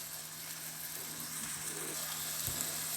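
Ground turkey and onions sizzle in a pot for turkey chili, a soft steady crackling hiss, close and continuous.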